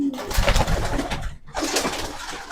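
Pigeons coo steadily in a loft of racing birds, soft repeated throaty calls overlapping near and close, with a brief pause midway before the cooing resumes.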